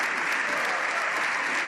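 Members of the socialist benches in a parliamentary chamber break into applause, a dense, continuous wash of clapping from many hands that stays loud and even before cutting off abruptly.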